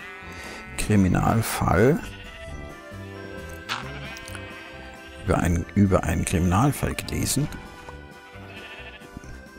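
Minecraft sheep bleat in several loud, wavering calls in two bursts, while someone speaks in German.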